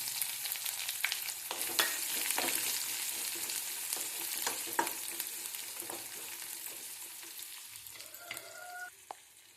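Onion pieces frying in hot ghee for a tempering, a bright continuous sizzle with scattered crackles and a few utensil scrapes, fading near the end, no voices.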